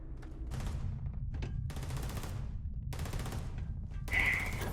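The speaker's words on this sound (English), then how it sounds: "What are you guys shooting at?" Gunfire from the space game Starfield, a dense continuous stretch of rapid shots and bursts across the clip, with a brighter electronic whine near the end.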